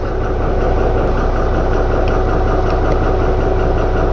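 A tractor engine idles nearby during hitching of a sprayer and fertiliser tank, a loud, even, low mechanical drone with a steady throbbing pulse that holds unchanged throughout, with no voices.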